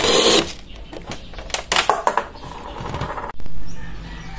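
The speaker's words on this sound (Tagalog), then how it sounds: "napakabilis at effortless po yung pagtatanggal natin ng ating screw gamit po tong ating impact wrench" An impact wrench fitted with a 1/2-inch square drive to 1/4-inch hex shank socket adapter backs out a screw: short loud mechanical bursts and rattling whirs, close up, with a brief stop before a final spin.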